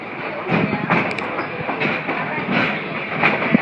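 A Strasburg Rail Road train in Strasburg, Pennsylvania, running past with a steady rumble and rhythmic clickety-clack of wheels over rail joints, loud and close throughout.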